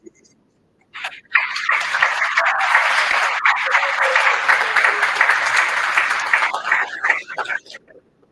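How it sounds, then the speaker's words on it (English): An audience bursts into sustained clapping for guest speakers at the International Greenwich Olympiad, starting after a brief pause, holding strong and even for several seconds, then tapering off near the end. "Can we have another applause for our guest speakers?"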